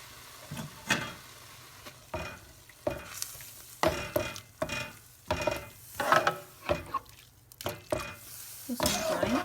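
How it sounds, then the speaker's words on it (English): Grated carrots cook with milk in a pan over a low flame for carrot halwa. A spoon stirs and scrapes in repeated close strokes over a faint simmering sizzle, with no talking. "So you're just going to add 2 cups of milk and let it cook on a low flame."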